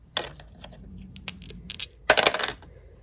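Dice clatter and tumble across a hard surface in a quick rattling roll, a short burst of bright clicks followed by a louder final scatter, close and alone.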